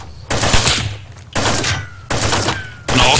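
Gunshots in the survival video game DayZ, heard from a high perch: four loud, sharp bursts roughly a second apart, each with a ringing tail that fades before the next shot.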